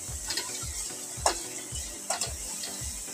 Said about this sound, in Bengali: এটা মশলাটা ভাজা হয়ে গেছে